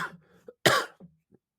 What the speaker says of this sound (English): Sorry, I had a coughing spell.